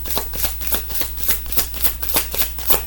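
Tarot cards shuffled close up, a regular rhythm of soft slapping riffles repeating about three times a second over a low steady hum.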